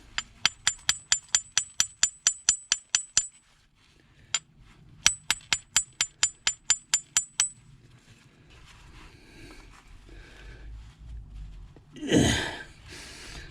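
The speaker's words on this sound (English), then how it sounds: "Give it a tap of a hammer." Rapid metallic hammer taps on seized clutch and brake parts of a Triumph TR7 ring out in two quick bursts of about a dozen strikes each, close and sharp, followed by quieter rustling and a breathy noise.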